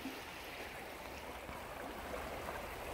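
A creek flows gently nearby, a soft continuous watery rush and gurgle that holds steady throughout, fairly quiet and with no talking.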